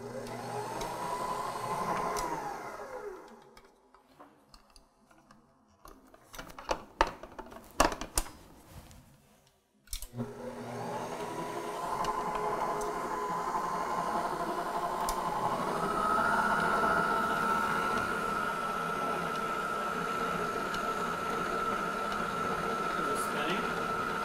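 A Kenmore Ovation stand mixer whirs with a motor whine that stops, gives way to clicks and clatter, then starts up again and runs steadily, with a voice speaking over it.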